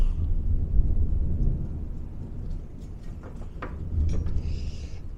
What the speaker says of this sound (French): Il y a de l'orage sévère là. Je sais pas si vous avez entendu, ça fait un boom énorme.